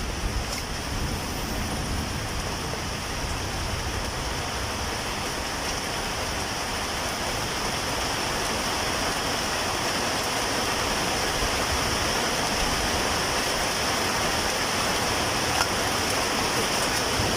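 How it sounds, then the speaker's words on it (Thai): Heavy rain falls steadily outdoors in Thailand, a continuous even hiss that holds at a moderate level throughout with no talking. "ฝนยังตกอยู่เลยนะครับ"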